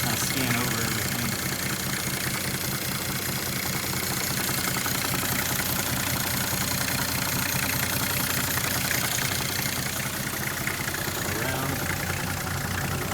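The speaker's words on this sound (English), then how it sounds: "got a nice little quiet exhaust note" A Nissan C33 Laurel Medalist idles steadily with a quiet exhaust, an even low rumble running throughout while a person briefly speaks over it.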